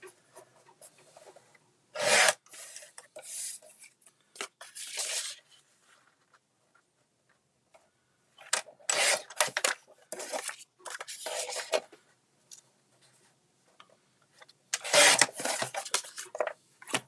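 Cardstock for Christmas cards is trimmed in several separate passes, each a brisk scraping slide of a cutter blade through paper lasting a second or two, close and crisp, with quiet pauses between.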